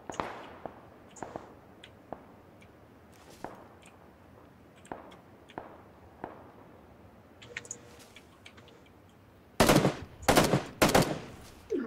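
Gunfire in a PUBG-style battle royale video game: scattered single shots through most of the stretch, then a loud close burst of rapid automatic fire near the end.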